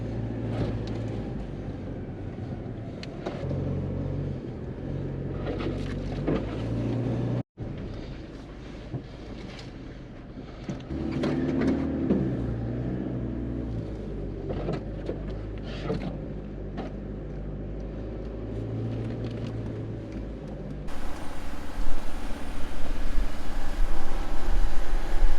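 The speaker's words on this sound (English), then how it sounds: "Just driving through this track" A 4WD vehicle drives along an overgrown bush track on the way to a campsite, with a steady low engine rumble and rough wind buffeting the microphone throughout, growing louder near the end.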